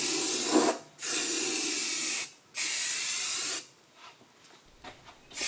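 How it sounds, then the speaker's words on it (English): Aerosol can of self-etching primer sprayed onto bare John Deere 755 tractor metal in two long, steady hissing bursts close by, then brief quieter rattles and a short final spurt. "I prefer to protect new open surfaces with self-etching primer."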